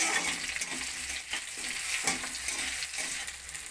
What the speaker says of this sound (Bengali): পেঁয়াজের সঙ্গে টমেটোটাকে আমি ভেজে নেব